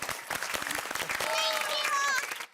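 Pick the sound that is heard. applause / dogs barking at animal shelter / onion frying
applause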